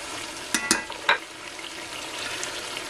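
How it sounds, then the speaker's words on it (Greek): Caramelised meat sizzles and fries steadily in a pan, with a few sharp clinks and scrapes as the pieces are turned near the start. "Γυρνάμε λίγο το κρέας. Κοιτάξτε πως έχει καραμελώσει."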